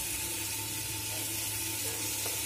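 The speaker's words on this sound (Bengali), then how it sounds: "এখন 2-3 মিনিট টাইম নিয়ে আমি চাল আর ডালটা মশলার সাথে খুব ভালো করে ভেজে নেব।" Rice and lentils fry with spices in a pan for bhoger khichuri, giving a steady, even sizzle that runs unbroken throughout, fairly soft and with no voices.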